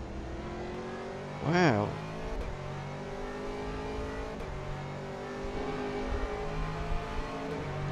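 A Porsche GT3 race car engine at Paul Ricard, a sustained in-car engine drone with tonal revving throughout and a short rising whine, with one brief exclamation from a driver.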